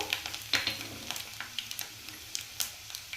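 Finely chopped garlic fries in hot oil for an achari pumpkin curry. The sizzle is soft and crackly, with a few sharp spits and light scraping stirs close by.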